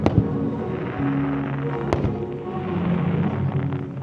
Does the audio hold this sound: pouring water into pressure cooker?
no